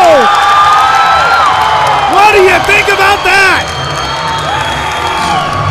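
A crowd at a youth combat sports fight night erupts in loud cheering and high whoops once a bout ends. The roar is sustained, close and dense, with a voice speaking over it.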